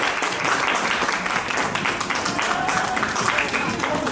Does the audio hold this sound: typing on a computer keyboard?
no